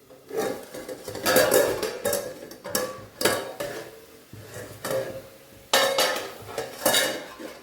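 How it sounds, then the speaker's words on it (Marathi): A lid comes off a pan of bitter gourd curry cooking on medium heat, giving a series of sharp metallic clanks and clatters, close and loud, spaced irregularly across several seconds. "आपण झाकण काढून पाहूयात"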